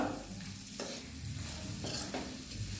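Hog plum pickle with spice mix, turmeric, fenugreek, chilli and asafoetida powders frying in a pan over raised gas, a soft continuous sizzle broken by a few stirring scrapes, close and quiet.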